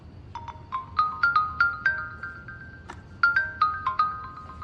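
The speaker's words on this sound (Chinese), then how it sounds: "我去接个电话。" A phone ringtone plays a bright melodic chime of repeated ascending notes in two bursts with a short pause between, clear and close, with no talking.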